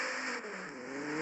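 Car engine in a driving simulator game, revving with a rising and settling whine of tonal harmonics, steady mid-level engine tone heard alone for about a second.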